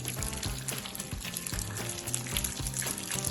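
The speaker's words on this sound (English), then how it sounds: "I threw a little oil here in the pan and I am now going to put in some of the rice, like a fried rice" Leftover rice sautéing in a little oil in a pan, fried-rice style, makes a continuous close crackling sizzle with faint scraping, alone and without speech.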